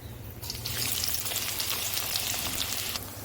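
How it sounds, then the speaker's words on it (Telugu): Sliced onions dropped into hot oil with cinnamon and cloves burst into a loud, bright sizzle that swells quickly and holds steady, close by, with quieter hiss before and after. "ఇప్పుడు ఆనియన్స్ వేస్తున్నాను"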